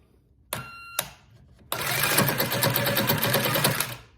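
A jigsaw fitted with a Diablo blade gives two short buzzing bursts, then cuts steadily with a loud, rapid reciprocating rattle that holds for over two seconds before stopping.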